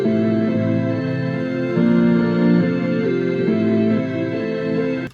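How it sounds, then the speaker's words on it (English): A bright Farfisa synth plays a looping figure of sustained notes that ring into one another, layered and steady, ending abruptly. "I love this synth because it overlaps with the next note every time."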